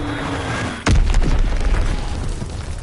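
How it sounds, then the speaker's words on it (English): An enemy bomb in Call of Duty WWII goes off as one loud, sudden boom over steady battlefield noise, followed by a rumbling tail. "Enemy bomb incoming. Get to cover."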